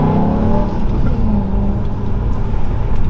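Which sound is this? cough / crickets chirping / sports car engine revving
sports car engine revving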